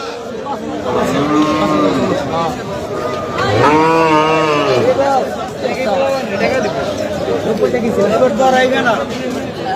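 Cattle at a rural cattle market under a canopy moo loudly several times, long drawn-out calls close by, with crowd chatter and voices running underneath throughout.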